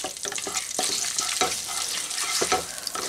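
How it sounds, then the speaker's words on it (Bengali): Dried red chillies, bay leaves and whole garam masala sizzle and crackle in hot oil while being stirred, a steady close frying hiss with scraping stirs, for a Bengali long beans chicken dish. "ফোড়নটা দিয়ে ফোড়নটা একটু নাড়াচাড়া করে নেবো।"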